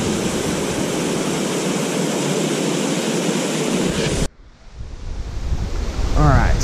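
Laurel Falls pours in a loud, dense, continuous roar up close. It then cuts to a quieter rush of stream water running downstream, which swells louder toward the end.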